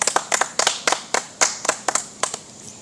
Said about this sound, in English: We just take say round of applause.